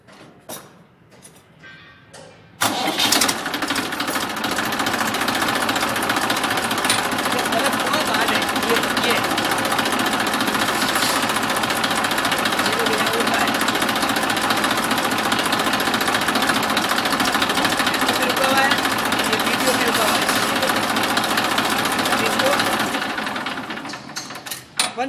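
A tractor engine starts with a sudden jump into a loud, steady clattering run that holds evenly for about twenty seconds at close range before cutting off, with someone speaking briefly beforehand.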